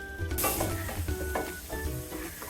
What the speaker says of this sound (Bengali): পেঁয়াজটা হালকা বাদামি করে আমি ভেজে নেব